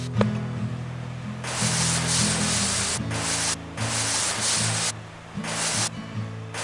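A cutting torch burns through ship metal in the video game Ship Graveyard Simulator, a loud steady hiss in several long bursts with short pauses and a low hum underneath.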